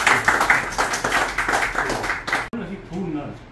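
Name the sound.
audience clapping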